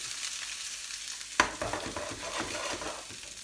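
Onions and peppers fry in a very hot pan with a steady close sizzle, broken by a sharp clatter as they are stirred before the hiss carries on.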